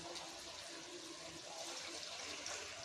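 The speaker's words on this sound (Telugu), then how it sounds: "రసాన్ని ఇందులో పోసుకోవాలి" Tamarind juice goes into a pan of boiling fish pieces in oil for chapala pulusu, making a faint, steady liquid pouring and rushing sound that continues evenly without talk.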